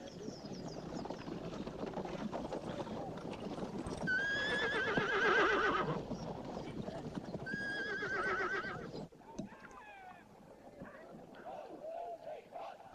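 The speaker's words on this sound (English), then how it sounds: "Our good Colonel Danford's called quite a coup with this Sekhale horse." Horses whinny in loud, drawn-out calls from a 19th-century British colonial army camp in Zululand, with a steady clip-clop of hooves on hard ground throughout and a busy murmur of background activity.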